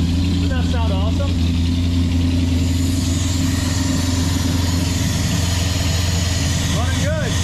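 A 1966 Ford Mustang with a 289 V8 idles steadily, its even low engine drone running without pause. Brief faint voice-like sounds appear at the start and near the end.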